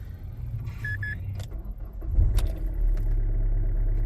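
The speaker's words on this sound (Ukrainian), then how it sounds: "роблю спеціально холодний пуск після доби, як вона простояла, ніч була з легеньким заморозком" A 2015 Kia Ceed 1.4 CRDi turbo diesel does a cold start after standing a day through a light frost: a key and electrical clicks and chimes, then a brief crank and the engine catching into a steady, loud, close idle.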